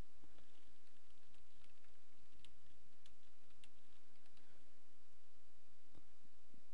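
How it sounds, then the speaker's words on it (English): Faint, scattered clicks of typing notes on a computer keyboard, a light irregular tapping over low background rumble with no talking. "Once you're done typing your notes in,"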